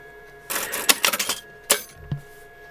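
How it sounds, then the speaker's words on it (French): A sewing machine stitches fabric for a patchwork pineapple basket, running in two short loud bursts of rapid mechanical clatter with a brief pause between. "Je vais coudre."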